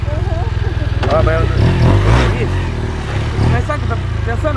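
A motorcycle engine idles steadily and close by with a low, even throb while several people talk over it.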